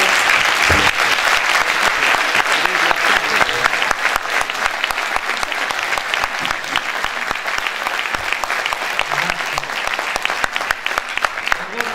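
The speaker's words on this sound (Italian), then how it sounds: "E adesso un applauso per Massimo" An audience applauds Massimo Zedda at a public event in Alghero with dense, steady clapping that fills the room for the full stretch, loud and sustained without a break.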